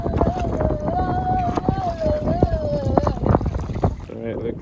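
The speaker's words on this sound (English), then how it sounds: "We're gonna paddle back now." Paddle boards being paddled back across open water from Kaneohe Sandbar, Oahu, Hawaii, with wind rushing over the microphone, water splashing, and a voice talking over it throughout.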